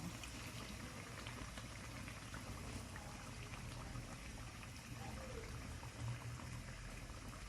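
Canned diced tomatoes pour from the can into a cooking pan for chicken cacciatore, giving a soft, steady liquid sizzle and bubbling hiss that stays faint and even throughout.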